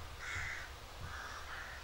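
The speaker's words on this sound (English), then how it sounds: "There's our friends the crows again." Crows caw twice from a distance, a harsh repeated call over steady outdoor noise beside an old pre-Christian well, with a rag tree nearby.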